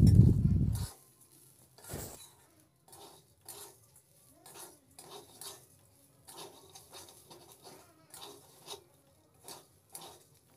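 Spices and rice being stirred together in a pot over a low gas flame for pulao, giving soft repeated scraping and clinking strokes, fairly faint and steady, after a louder clatter at the start.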